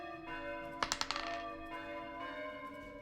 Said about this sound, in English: you guys hear the echo of bells all around